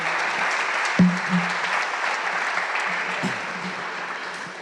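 Audience clapping continuously, a dense even patter filling the room, with a brief louder thump and a faint voice underneath.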